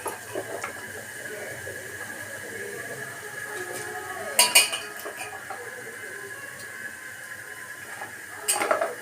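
Radish, carrot and teasel gourd tipped into a pot of simmering rice and lentils for vegetable khichdi, with soft clatter and two sharp metallic clinks of utensils against the pot, mostly quiet otherwise.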